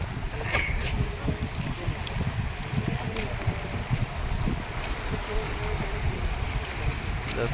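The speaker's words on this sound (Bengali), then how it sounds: "এই জায়গার শব্দগুলো শুনুন কি পরিমাণ স্রোত" The Padma River is running high near its danger level, and its strong current makes a steady broadband rush of water mixed with wind. It is moderately faint and continuous, with occasional soft knocks.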